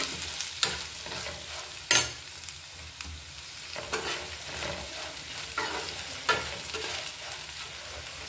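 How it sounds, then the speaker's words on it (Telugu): Ivy gourd (dondakaya) pieces fry in oil with chili powder, a steady crackling sizzle broken by scraping stirs of a spatula against the pan every second or so, close by and without talk. "కొంచెం చిటికెడు కంటే కొంచెం ఎక్కువ కారం. ఒకసారి తిప్పేసుకోండి. మంచిగా వేగుతుందండి."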